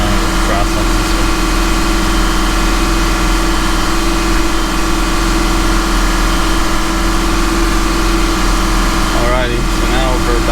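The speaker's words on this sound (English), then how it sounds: "We're going to let it idle." Lamborghini Huracan engine idling with a steady, loud, low hum throughout, accompanied by a constant droning tone and brief voice-like sounds near the end.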